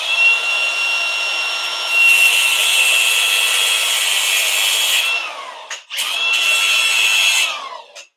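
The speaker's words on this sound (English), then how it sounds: "Things you don't want to do with a grinder." An angle grinder runs loud and close during a DeathRacer build, with a steady high whine for several seconds, a brief drop in speed, then another strong burst before it spins down.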